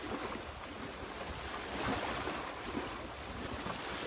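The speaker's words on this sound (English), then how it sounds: "hopefully you can hear that and you get a little moment of the waves crashing" Ocean waves crash and wash continuously onto the shore, a steady broadband roar with gentle surges and some wind buffeting the microphone, heard alone without voices.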